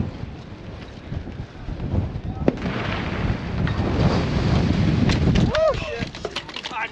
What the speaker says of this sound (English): Turned on the wind machine again.